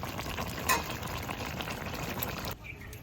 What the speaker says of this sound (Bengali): বেগুনটা তরকারি করবো বলে ভেজে রেখে দিই